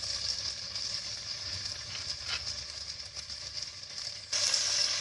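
Vegetable Manchurian sizzles steadily in a hot pan as soy sauce and vinegar are stirred through, a bright continuous hiss with a few scraping stirs, growing louder near the end.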